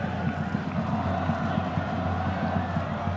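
Football fans of Sharjah FC make a steady, dense roar of crowd noise at Bishan stadium during a continental final, heard from a distance without a break.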